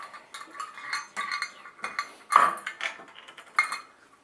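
A fork clinks and scrapes against a bowl while stirring banana bread batter, a close, irregular series of light metallic taps and scrapes with no talk.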